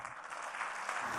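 A mushaira audience in Doha applauds steadily as a poet is welcomed to the stage, a soft, dense wash of clapping heard from some distance.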